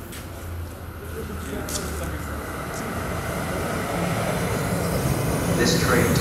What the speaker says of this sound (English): So my train is here.